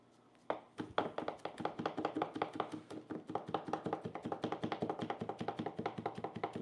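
A knife rough-chops garlic on a cutting board in quick, steady, rhythmic taps, close and crisp, speeding into a fast continuous run of chops with no talk over it.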